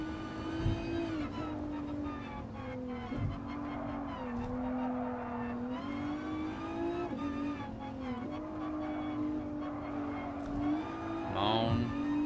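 A Nissan GT-R Cup race car in Gran Turismo Sport accelerates hard and steadily, its loud engine note climbing and dropping through repeated gear shifts, with a brief tire squeal near the end.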